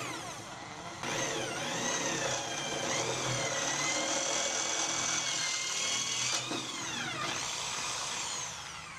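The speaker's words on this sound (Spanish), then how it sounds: "Recuerda que esté solo en la posición de taladrar y vamos lentamente hasta ensanchar la perforación que acabamos de hacer." A power drill widens an existing hole with a larger bit in a furniture handle to free a broken screw. It gives a steady, close motor whine that runs for about eight seconds, with its pitch dipping and recovering several times as the bit bites.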